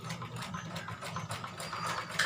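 A sewing machine runs steadily, stitching a seam on a gown, with a continuous close whirring hum and fast needle chatter that holds for a couple of seconds without any talk.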